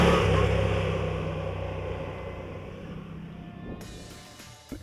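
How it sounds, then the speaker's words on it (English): Moto Guzzi V85 TT motorcycle with a 90-degree 853cc V-twin engine, a steady loud engine drone that gradually fades as the bike moves away, ending quieter. "Powered by a Moto Guzzi 90° 853cc V-twin."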